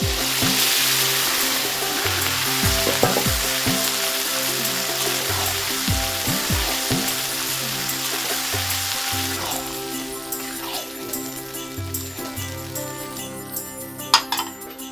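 Bay leaf and panch phoron five-spice tempered in hot oil for a rui fish curry with radish greens, with garlic cloves and chopped onion, sizzling loudly and steadily alongside occasional stirring and utensil clinks, no talking.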